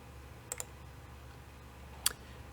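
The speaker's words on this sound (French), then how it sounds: "Et ensuite, je clique sur le bouton Play." Two quick soft mouse clicks close together on a software Play button in a video-indexing search application, followed a moment later by another single click, all faint against a quiet room hum.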